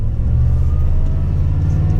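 A supercharged 2017 Toyota Tundra engine growls with a loud, steady, deep rumble, heard close up and alone without any voices.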